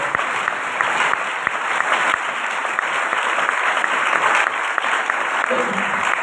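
A church congregation claps together in sustained, dense applause with a few cheers, loud and continuous throughout.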